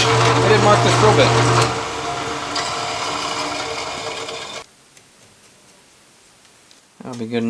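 A drill press whirs steadily at speed while drilling during a Napco 4x4 shifter repair on a truck, then cuts off abruptly, leaving near silence before a brief clatter.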